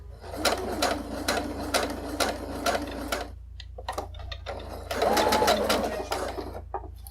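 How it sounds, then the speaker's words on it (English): A sewing machine stitches fabric for a cosplay harness in rapid mechanical bursts, running for about three seconds, pausing, then running again in a shorter burst, close and clear with a steady low hum beneath. "Actually surprised how well this fabric is working with the sewing machine"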